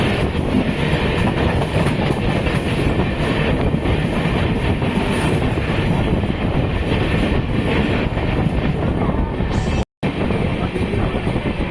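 An LHB-coach Yelagiri Express train runs between Chennai and Jolarpettai, giving a loud, continuous rolling rumble with rhythmic clickety-clack of wheels over rail joints and a brief dropout near the end.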